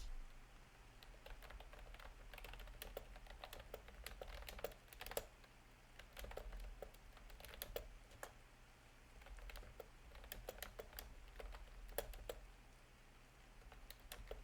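A computer keyboard bought specifically for ASMR is typed on very close to the microphone, giving a steady stream of crisp, irregular key clicks and taps over a low, quiet background hum.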